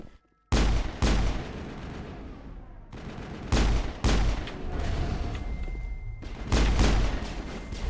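Gunfire from squad teammates in the Mass Effect video game: loud bursts of automatic weapon fire in several volleys, punctuated by sharp booming impacts and short pauses between them.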